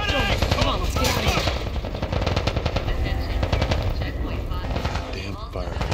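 Rapid bursts of automatic gunfire in The Last of Us video game, dense repeated shots rattling throughout at close range, with shouted voices mixed in.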